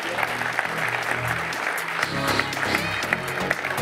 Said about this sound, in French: merci Els, on peut les applaudir bien fort et les raccompagner à leur place.